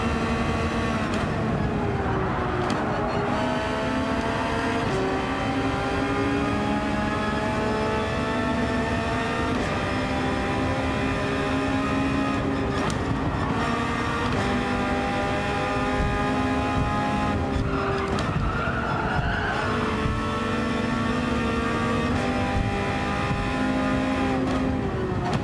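A race car engine held at the rev limit in 4th or 5th gear, a loud, steady, high-pitched drone that runs on for a long stretch with only brief dips, and no voices over it.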